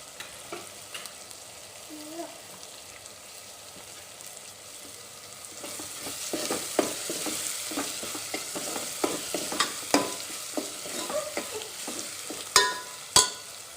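Misal masala for Kolhapuri misal sautés in a pan with a quiet sizzle that grows louder halfway through, broken by frequent clicking, scraping stirs of a spoon against the pan.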